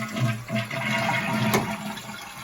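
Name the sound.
toilet flushing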